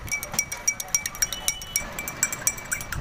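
A spoon clinks rapidly against a glass while stirring in a calcium supplement, producing bright, irregular metallic taps in quick succession, fairly close.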